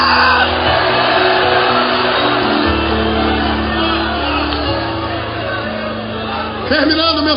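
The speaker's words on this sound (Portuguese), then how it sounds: "Quem quer, quem crê, dê um grito de glória." A church congregation shouts and cries out in glory together, a loud sustained wall of massed voices with a low musical drone underneath throughout.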